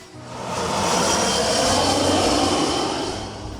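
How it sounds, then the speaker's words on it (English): A fixed-wing airplane passes low overhead while coming in to land, a loud sustained roar of jet engine noise swelling and fading slightly, heard close with no talk. "On any given day, you'll probably see people here watching planes land."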